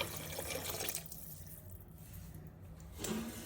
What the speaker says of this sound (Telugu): సో ఇప్పుడు ఇందులోకి నేను వాటర్ వేసేస్తున్నాను.